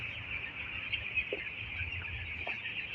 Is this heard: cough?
no